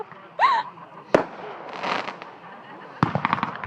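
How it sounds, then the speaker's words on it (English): Fireworks go off outdoors by a road at night: sharp booming bursts land about a second apart and then again near the end, trailed by crackling sputters, with faint voices and a brief whistle in the background. "Everything on the road stops looking at the fireworks."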